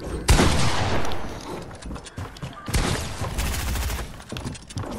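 Rapid SMG spray in Fortnite on a Switch, dense loud bursts of automatic fire filling the whole stretch with overlapping shots and impacts, a brief lull midway before another heavy volley.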